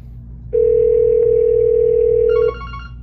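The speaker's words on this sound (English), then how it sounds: "So we're gonna go ahead and get a call started here." A phone call being started on a business phone line: faint background hum, then a loud steady dial tone for about two seconds, followed by quick dialing beeps.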